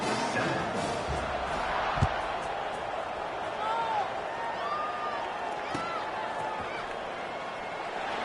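Football stadium crowd during a game, a broad steady roar of many voices filling the whole stretch, with a sharp thump near the two-second mark and scattered whistles and shouts rising above the din.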